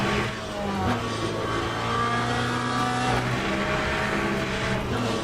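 Race-car engine in Le Mans Ultimate holding a steady high drone, its pitch stepping down and back up as gears change, loud and continuous with no pauses.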